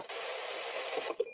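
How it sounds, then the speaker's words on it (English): A hacked AM radio gives off a steady wash of hissing static, with a few short tonal blips near the end that resemble Morse code. "sounds like Morse code coming through then"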